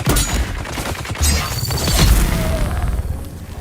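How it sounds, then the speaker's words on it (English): Sniper rifle fire in the video game Dune Awakening during solo PvE play, a burst of sharp cracking shots and impacts in quick succession, with mechanical clatter and a rumbling boom in between, loud and close. "We're now being sniped."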